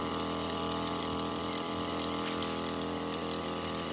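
A motorized backpack sprayer applying pesticide across a maize field runs as a steady, loud engine drone with a continuous whining hiss, holding constant from start to finish.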